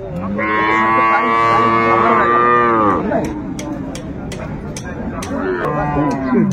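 Cows and calves at Raniganj cattle market in Dinajpur give loud, drawn-out moos, one long call for about three seconds followed by a shorter one, with sharp clicks and market noise in the background.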